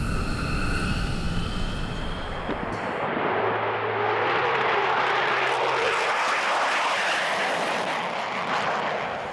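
US Air Force F-15 fighter jet on alert duty, a loud sustained engine roar filling the whole clip, broadband and steady with a low droning tone midway, close and continuous with no voices.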